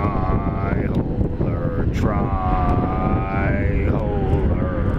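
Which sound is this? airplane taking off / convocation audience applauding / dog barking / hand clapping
airplane taking off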